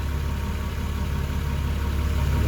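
A Ford FG Falcon's engine idles with a steady, even low rumble and a faint mechanical tick, close and constant, with no voices over it.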